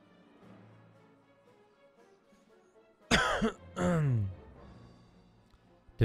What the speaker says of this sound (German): Da kommt der Husten, Alter.